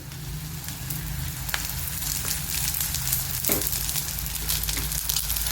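Gram-flour vadis shallow-frying in a little oil in a pan, a continuous close sizzle with crisp crackles and occasional stirring scrapes, no voices.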